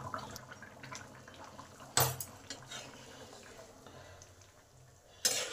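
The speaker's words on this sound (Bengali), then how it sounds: "এবার হাই হিটে 5 মিনিট ফুটবে, আমি চাপা দিয়ে দিলাম।" Egg curry with potato, soybean and kohlrabi boils on high heat in a covered pot. A low bubbling simmer runs steadily and is broken by two sharp metallic clinks of the lid or cookware.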